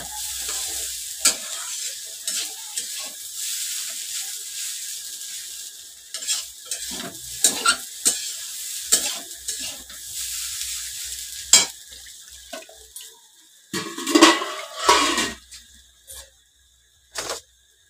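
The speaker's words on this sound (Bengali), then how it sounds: "আর একটু সাদা তেল দিয়ে দিচ্ছি উপরে" White oil sizzling and frying in a pan with intermittent stirring and scraping, steady crackle broken by louder clatters of a utensil, close and without talk.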